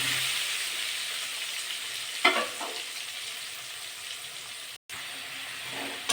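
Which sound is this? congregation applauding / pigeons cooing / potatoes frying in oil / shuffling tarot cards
potatoes frying in oil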